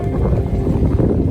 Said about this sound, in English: the wind has gotten a little bit better now.